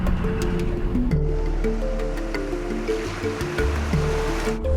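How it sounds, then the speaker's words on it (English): Steady broad rush of river water flowing through the Rosie crossing at Lorella Springs during a 4WD drive, a continuous loud wash with low vehicle rumble underneath and no talk. "Hey Shaun, I didn't expect this much water in the Rosie this far down, mate."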